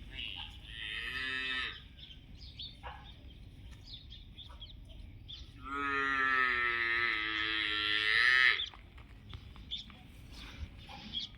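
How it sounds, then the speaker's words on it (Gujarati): Water buffalo on a village farm near Girnar mountain, giving two drawn-out low moos, one short and one long, fairly close, with faint bird calls in the quiet background. "ઓલી બાજુ છે અમારી બે ભેંસ"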